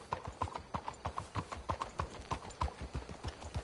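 Horse hooves in a video game clip-clop at a brisk, steady walking rhythm, close and crisp, with many even hoofbeats and no talking over them.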